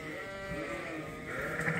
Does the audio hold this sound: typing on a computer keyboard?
no